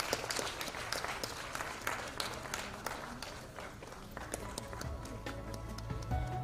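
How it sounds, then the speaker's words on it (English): Audience applause at a women's summit felicitation, a steady wash of clapping from a crowd that runs throughout and tapers slightly near the end, with faint voices mixed in. "Let's have a huge applause for her"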